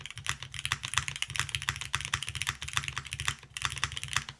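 Fast, clacky keystrokes on an Aepex 60 mechanical keyboard come through close and crisp in irregular bursts with a few short pauses, and no one speaks.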